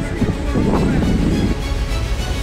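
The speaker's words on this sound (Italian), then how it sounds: "Tra il vento che infuria" Strong wind buffets the microphone outdoors during a half marathon run, a heavy low rumbling roar that swells midway and persists throughout.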